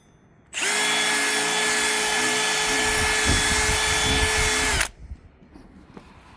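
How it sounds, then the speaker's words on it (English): A power drill whirs steadily at high speed for about four seconds, loud and close, cleaning out drilled holes in a flat metal piece, then cuts off, leaving faint handling noise. "you want to take your drill bit, go back in them, just kind of clean them up a little bit"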